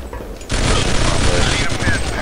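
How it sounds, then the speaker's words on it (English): A grenade goes off in the Natural Selection video game after a short quiet lead-in, opening a loud, sustained blast and crackling roar that fills the rest of the clip. "I'm pulling out my grenades. I'm priming it. I'm throwing it down the stairs."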